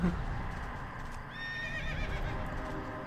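A horse mount in World of Warcraft Cataclysm Classic lets out one clear, loud whinny with a wavering, falling pitch over steady hoof clip-clop and low background game ambience.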